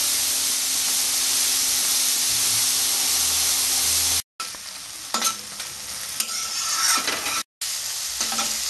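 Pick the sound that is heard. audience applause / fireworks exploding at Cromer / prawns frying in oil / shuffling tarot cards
prawns frying in oil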